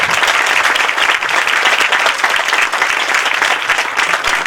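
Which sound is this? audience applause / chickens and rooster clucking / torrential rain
audience applause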